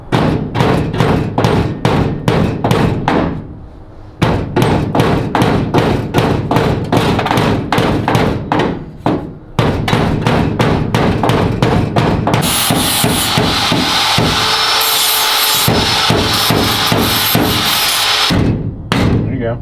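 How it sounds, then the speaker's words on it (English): A car frame in a home garage being struck with a hammer, a long run of loud, close, rapid metallic blows in steady bursts with brief pauses and a noisier stretch partway through. "No, I'm hitting the frame."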